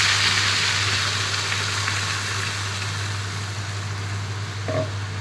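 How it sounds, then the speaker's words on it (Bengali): Spiced meat masala paste of onion, ginger, garlic, green chilli and tomato sizzling in hot oil for hariyali chicken, a steady close frying hiss that eases slightly, with a low constant hum underneath. "আমের চাটনি ডান, তেলটা গরম হয়ে গেছে। এইবার মাংসের যে মশলা করেছি সেই পেস্টটা এর মধ্যে দিয়ে দিচ্ছি।"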